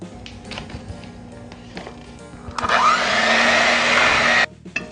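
An electric blender whirs loudly for about two seconds, blending pineapple, strawberries and pot cheese, after quieter kitchen tapping and clatter, then cuts off abruptly.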